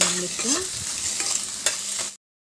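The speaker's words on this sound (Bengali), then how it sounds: "আর এখানে দুটো ডিম মামলেট করে নিচ্ছি।" Two eggs frying in a pan for an omelette give a steady, close sizzle broken by spatula scrapes and stirring, then the sound stops abruptly.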